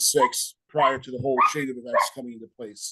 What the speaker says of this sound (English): Sorry about my dog. She wants to go in.